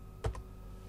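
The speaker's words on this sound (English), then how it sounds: "I'll type it in" A couple of quick, soft keystrokes on a computer keyboard, two close clicks in a quiet room.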